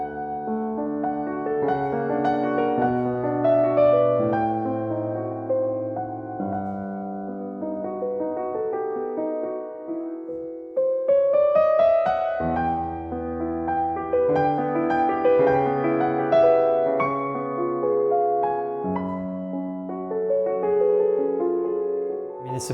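Solo piano plays a slow, lyrical Liszt love theme, with rich sustained chords and a singing melody that climbs upward midway, full and continuous throughout.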